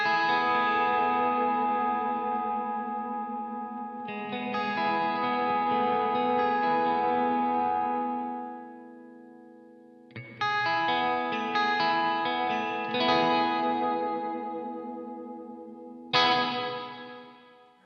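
Electric guitar through a Laney Black Country Customs pedal set to maximum modulation, sustained chords swirling with chorus-like wobble and echo, ringing out and decaying, played alone with no talk.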